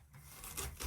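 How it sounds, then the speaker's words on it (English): Brief scratchy rasping strokes of a hairbrush dragging through the tangled, shedding hair of an American Girl doll repeat quickly up close and fairly faint. "I hate the sound of brushing doll's hair when it sounds like this."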